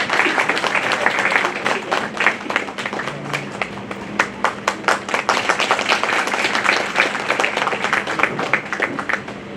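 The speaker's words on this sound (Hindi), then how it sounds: "जोरदार तालियों से सबका स्वागत है" Audience applause welcoming guests at a ceremony, with lively, crisp clapping from a crowd that holds steady throughout with distinct sharp claps on top.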